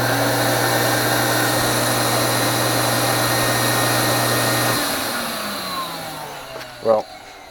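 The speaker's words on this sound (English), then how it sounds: "this vacuum's got so much power that we'll see if it'll do it" A shop vacuum with strong suction drones loudly and steadily close by for most of the span, then its motor winds down and fades out near the end.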